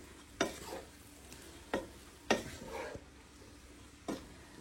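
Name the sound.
stirring a mixture in a pan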